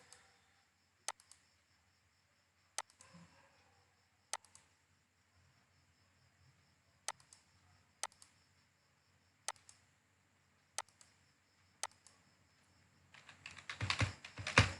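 Keys clack on a computer keyboard while an address is typed into an online application form, spaced single strokes arriving every second or so in a quiet room, ending with a louder burst of rapid clatter.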